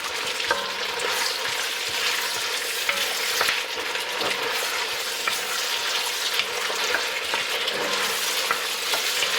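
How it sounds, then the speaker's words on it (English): Chopped onion sweating in a frying pan for shrimp fried cabbage, a steady close crackling sizzle with occasional stirring scrapes, continuous and with no voices. "So get the onion nice and sweat it down."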